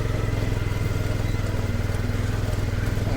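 A small vehicle's engine labors on grass as its wheels slip, a loud, close, steady rattling drone with a fast regular pulse throughout.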